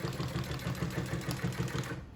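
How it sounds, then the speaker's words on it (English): Walking foot double needle sewing machine stitching a pocket onto a waxed canvas workshop apron, running in a steady fast rhythmic chatter at close range for about two seconds, then stopping. "To sew the lower pockets on our workshop aprons, we use a walking foot double needle."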